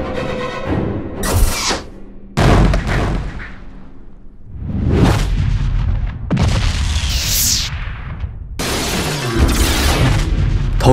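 Cartoon cannon blasts: several loud booming shots with whooshing bursts in quick succession, close and forceful, each followed by rumbling decay, no voices.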